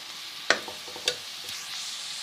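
Sliced onions frying gently over low heat in a pan for a potato and egg curry, a soft, steady sizzle broken by a few sharp clinks and scrapes of a spoon stirring, close by, with no talking.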